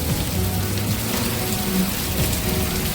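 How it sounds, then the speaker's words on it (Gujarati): Steady heavy rain pours down without pause, a dense continuous hiss with low rumbling underneath and no voices. "બહાર વરસાદ બહુ જ વરસાદ પડે છે"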